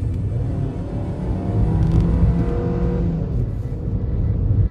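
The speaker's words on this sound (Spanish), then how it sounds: "aquí hay otra pendiente, escuchemos el motor" A Hyundai Grand i10 2021 engine drones and strains steadily at low pitch while climbing a slope, rising slightly in effort, heard from inside or close by with no talking.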